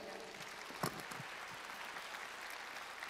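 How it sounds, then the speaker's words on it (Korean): An audience at a Korean business leadership conference applauds to welcome a speaker, a steady, fairly distant clapping that holds throughout at an even level. "구일의 대표님을 큰 박수로 맞이해 주십시오."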